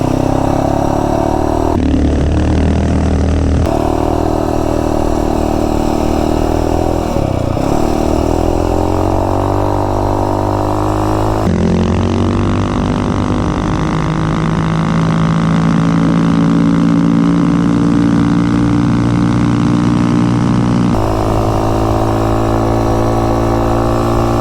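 An MM212 motorcycle fitted with a custom intake and a dirt bike exhaust cruises up a street. Its loud, steady engine drone rises and falls as the rider shifts through gears, with no talking over it.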